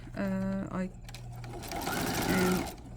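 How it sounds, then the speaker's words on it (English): A sewing machine stitches bias tape at a garment neckline, its loud steady whirring running in close bursts while someone talks over it. "I pulled all the seam allowance under the bias tape, and I am stitching right at a 1/16 from the edge."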